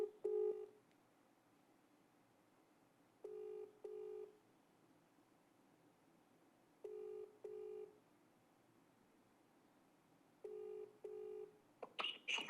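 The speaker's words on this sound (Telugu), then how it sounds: "రైతులకు ఒకసారి ఫోన్ చేద్దాం." A telephone call placed to protesting farmers rings out as a faint, repeated double ringback tone, four rings spaced about three and a half seconds apart over quiet line hiss, ending in a burst of clicks.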